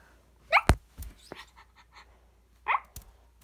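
A small dog gives a few short, sharp yips and snorts close by, spaced irregularly with quiet gaps between them, with no talking.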